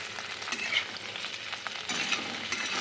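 Cauliflower frying with onion in a pan, a close, even sizzle with scattered crackles and soft stirring scrapes running throughout, with no voices.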